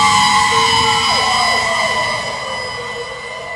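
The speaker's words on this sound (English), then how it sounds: "fleets of emergency and fire vehicles going by" Fire engines and emergency vehicles pass with wailing, overlapping sirens over truck engine rumble, loud at first and then slowly fading as they move away.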